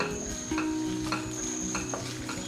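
Ginger garlic paste fries in a pan for brinjal curry, giving a steady close sizzle broken by a few sharp stirring scrapes against the metal.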